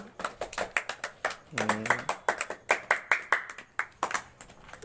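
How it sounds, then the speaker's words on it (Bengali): Children in a drawing class clap their hands in a brisk, steady run of about twenty sharp claps, close and fairly even, with a brief voiced sound partway through. "সবাই রক্তিমার জন্য জোরে হাততালি দাও"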